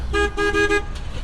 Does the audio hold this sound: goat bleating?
no